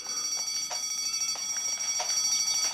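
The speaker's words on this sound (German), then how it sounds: "Die Alarmanlage ist ein bisschen schrill." Shrill electronic alarm system sounding in the Deponia video game, steady high piercing tones with repeated short bursts, moderately loud and continuous with no talk.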